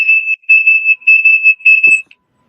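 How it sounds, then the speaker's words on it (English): A vehicle's backup alarm beeps in four steady, evenly spaced bursts of a high pure tone, loud and close, at a lakeside kayak bass fishing tournament, then stops. "Backup alarm."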